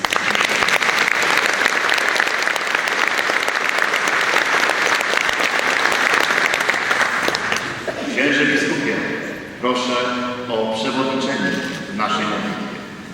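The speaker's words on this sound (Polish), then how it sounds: "Wielkie brawa dla Was." A large congregation at a memorial Mass bursts into loud, sustained applause for about eight seconds, which then gives way to a voice speaking over fading claps.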